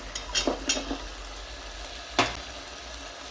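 Potatoes sauté in a pan with a soft, steady sizzle, broken by a few sharp scraping and stirring knocks, alone and fairly quiet.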